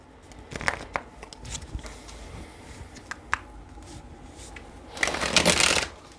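Tarot cards are shuffled close by in a few crisp riffling bursts, separated by softer taps and slides, with one loud flurry near the end.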